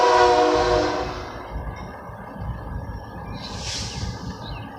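A train rolls along railroad tracks with a steady low rumble throughout, a fading horn-like tone at the start and a brief high squeal near the end, with no voices.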